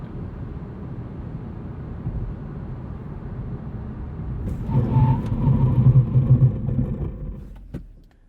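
A 2020 Hyundai Accent Limited brakes hard from 60 mph to a stop, steady road and wind rumble building into a louder tire and chassis roar before fading out.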